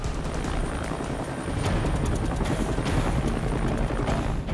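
Rescue helicopter hovering high over Mission Beach during a patient lift, its rotor throbbing as a steady, loud, close wash of engine and blade noise with no voices.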